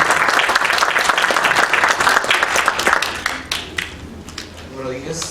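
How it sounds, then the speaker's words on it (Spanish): An audience claps in welcome for a speaker at a notarial law seminar on administrative procedure and disciplinary rules. Dense, steady applause fills the first three seconds, then thins into scattered claps with a voice beginning to speak. "Le damos la bienvenida y un aplauso."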